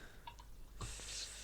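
Coffee is poured, heard as a brief, faint trickle that rises into a soft, steady pour in the last half second, with no voices.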